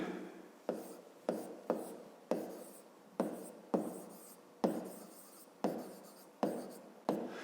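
A pen scratches out notes on paper in a series of about a dozen quick, close strokes, each a short rasping stroke with brief gaps between.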